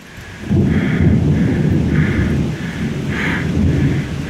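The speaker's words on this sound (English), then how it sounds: "Oh, raining now." Heavy rain pours steadily outdoors while low thunder rumbles continuously underneath, loud and close throughout with no voices.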